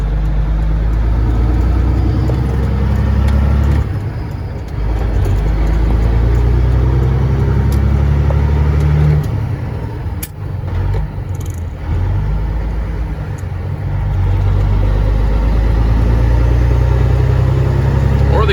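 A truck engine drones loud and close as the rig pulls away with a rough clutch and gearbox, a steady low rumble that briefly dips and surges around gear changes.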